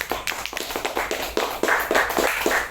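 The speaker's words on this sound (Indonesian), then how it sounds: "Kasih aplaus buat infocom kita" Audience applause at an Indonesian religious talk, a crowd clapping steadily and fairly close, with dense overlapping claps continuing throughout.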